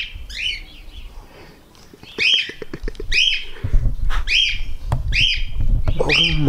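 A pet bird squawks and chirps in short, sharp repeated bursts close to the microphone, with some low background rumble and handling noise.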